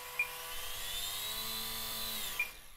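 A tiny electric motor on an ultra micro RC plane spins its propeller at high speed, giving a steady, close whine that holds for about two seconds before cutting off, with no talking.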